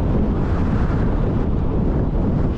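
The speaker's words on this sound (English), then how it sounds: "I don't know where this wind's come from" Steady wind buffets the microphone on a bike ride along a rural road near Steele Road and Kielder in the Borders, a constant loud low rumble with no other sounds.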